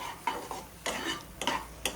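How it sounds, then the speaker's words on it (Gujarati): Gram flour roasting for mohanthal is stirred in a pan, with a few distinct scraping strokes against the metal over a soft, steady sizzle. The strokes fall at an uneven pace, and no one speaks. "થોડી વાર માટે આપણે હલાવીશું, જેથી લોટ તળિયે બેસી ન જાય"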